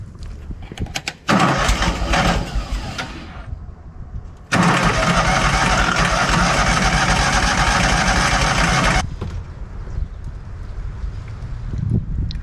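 A Hobart 10,000-watt welder generator engine, just back from carburetor repair, cranks and roars to life loudly in two long bursts, the second running steadily for several seconds before cutting back to a lower idle-like drone.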